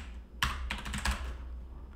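Typing on a newly installed computer keyboard: a quick burst of close, crisp key clicks starting abruptly, then a few scattered strokes trailing off into quiet.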